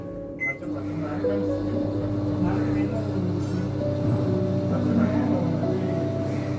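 A Samsung microwave oven runs while cooking a sweet flattened-rice pudding, producing a steady mid-loud hum with tonal whine, while a person speaks over it.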